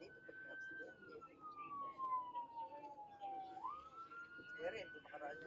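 An ambulance siren sounds while the vehicle is stuck in traffic, a single slow wail sliding down and then jumping back up, faint and somewhat distant beneath road noise and occasional voices.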